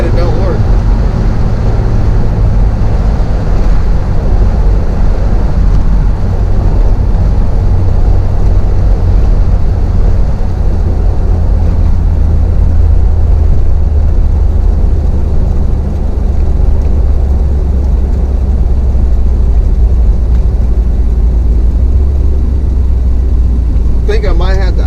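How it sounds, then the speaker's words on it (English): A 1979 Chevy G20 van engine idling, a loud steady low rumble that drones on without pause for the full stretch. "I think I might have to idle it down just a little bit."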